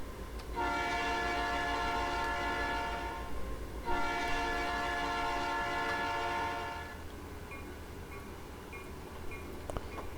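A logging locomotive in the Trainz 2019 simulator sounds two long, loud horn blasts over a low engine rumble, with the rumble continuing alone after the horn cuts off.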